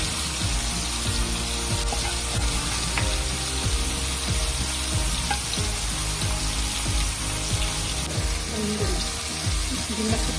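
Fish shallow frying in oil in a pan over a low flame, a steady dense sizzle with scattered crackles and pops running continuously throughout.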